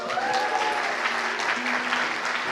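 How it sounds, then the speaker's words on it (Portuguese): A church congregation at Igreja United Bela Vista applauds together, a dense, steady wash of clapping from many hands with no voices standing out. "Recebam eles com um aconchego e uma salva de palmas."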